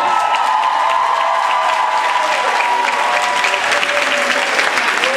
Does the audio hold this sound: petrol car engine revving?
no